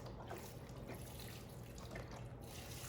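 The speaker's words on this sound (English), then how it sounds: "I have 2 cartons of low sodium chicken stock going in." Two cartons of low sodium chicken stock pour steadily into an Instant Pot, a continuous close liquid splash and gurgle lasting throughout with no talking.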